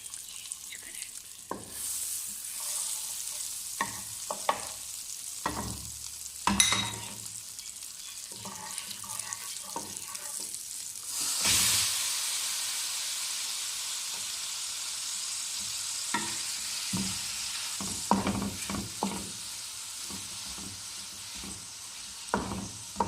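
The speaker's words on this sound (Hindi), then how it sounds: "हम चिकन को फ्राई करेंगे। पहले बटर ऐड करेंगे इसमें।" Chicken frying in butter in a pan, stirred with a spoon: a soft sizzle carries through, broken by scattered scrapes and clinks. A louder hiss surges midway, with no talking.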